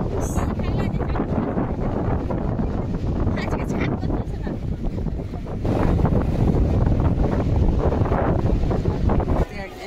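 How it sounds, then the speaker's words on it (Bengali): Strong wind buffets the microphone on Puri sea beach in the evening, a loud continuous roar that swells stronger midway, with faint surf and voices beneath. "আমি বুঝতে পারছি সাংঘাতিক হাওয়া দিচ্ছে, প্রচণ্ড ভালো লাগছে, জাস্ট মনটা ভরে যাচ্ছে, অসম্ভব হাওয়া"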